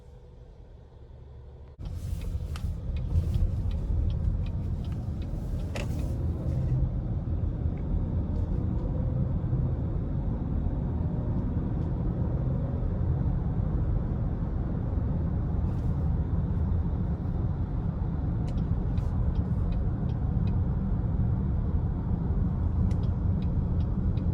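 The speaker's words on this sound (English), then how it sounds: "take this 2021 Acadia out on the road for a test drive" A 2021 GMC Acadia Denali FWD with a 9-speed automatic starts off and cruises on the road, with a steady, loud cabin rumble of engine and tire noise throughout and a few faint clicks early on.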